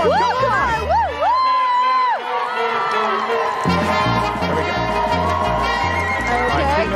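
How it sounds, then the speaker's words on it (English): An audience cheers and shouts during a game of Hungry Hungry Hippos at a live TV back-to-school special, the crowd noise steady and loud under music and an excited host. "Keep going, keep cheering for them!"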